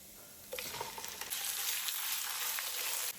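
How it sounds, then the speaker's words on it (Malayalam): Cut chicken breast hits a pan of lightly browned garlic and bursts into a loud, steady sizzle that builds and holds for a few seconds, with faint stirring scrapes. "ഇതിലോട്ട് കട്ട് ചെയ്ത് വെച്ച ചിക്കൻ ബ്രസ്റ്റ് ചേർത്ത് കൊടുക്കുന്നുണ്ട്"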